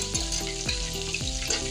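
Garlic fries in oil, sizzling steadily in a hot pan with a few stirring scrapes, a continuous close crackle with no voices.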